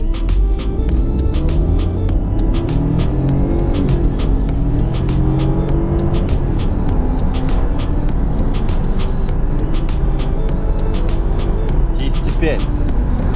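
BMW F30 318i with a 136 hp three-cylinder engine accelerating hard from 0 to 100 km/h, a steady loud engine drone with rising harmonics across several gear changes and a sharp shift near the end.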